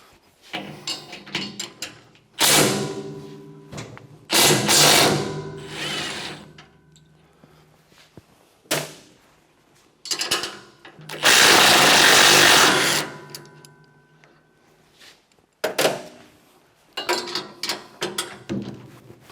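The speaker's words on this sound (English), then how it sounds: "I'm going to use my handy dandy impact here and see if I can break them loose." A handheld impact wrench rattles in several separate bursts while loosening nuts on a Muskox 23 37 snowblower during fan replacement, each burst short and close, with one longer hammering run in the middle and quiet handling sounds between.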